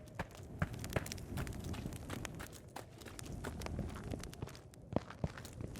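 Footsteps in an Unreal Engine game demo cross changing surfaces, a quiet, steady patter of individual steps with occasional louder impacts, faint overall and without speech.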